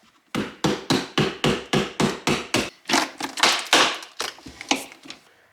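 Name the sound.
prying apart a glued battery case with a chisel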